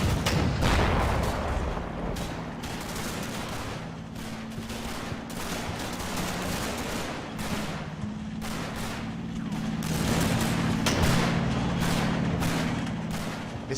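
Machine gun fire from a .50 caliber in Combat Mission: Battle for Normandy rattles in dense, continuous bursts. Rapid repeated cracks sit over a low rumbling drone that carries through the whole stretch.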